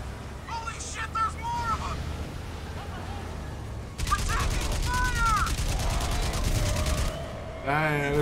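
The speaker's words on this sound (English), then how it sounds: "they don't like this machine gun." Rapid machine gun fire in the video game Crysis Remastered erupts partway through and keeps going as a loud, dense, sustained burst, with voices talking over the shooting and before it.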